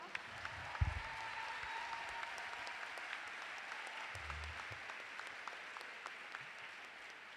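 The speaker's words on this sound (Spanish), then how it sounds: "gran aplauso para Laura" Conference audience at a Latin American social work meeting in Tandil gives a steady round of applause, fairly faint and distant, with a couple of low thumps from a microphone being handled.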